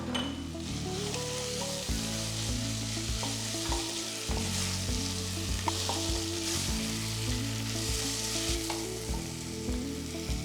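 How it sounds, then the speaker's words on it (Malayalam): Roughly chopped capsicum sizzles and fries in a pan with a steady crackle, while a melodic music track plays loudly throughout. "നമുക്കിതിനൊപ്പം തന്നെ ക്യാപ്സിക്കം കൂടി ഇടാം, ഒരുമിച്ച് കിടന്ന് കുക്കായിക്കോളും."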